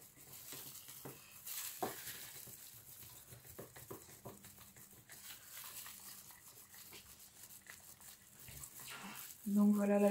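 Tinted resin, colored with a couple of drops of turquoise, is stirred in a small container, making faint, irregular scraping and clicking strokes, close but quiet, ending in a brief louder tonal sound.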